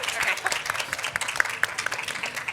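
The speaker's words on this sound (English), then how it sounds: "Let's give her a round of applause." An audience applauds a speaker at a STEM event, a steady wash of many hands clapping at moderate loudness for a couple of seconds, with a few sharper individual claps standing out and no talk over it.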